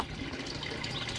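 Water pours steadily into an aquaponics tank on a farm holding lettuce and rainbow trout, a continuous close splashing gush with no talk over it.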